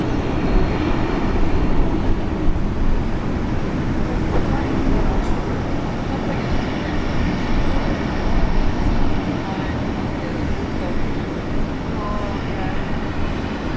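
An airliner takes off on runway 19 left at Brisbane International Airport, a steady, distant broadband roar that holds at an even level for the whole stretch with no break.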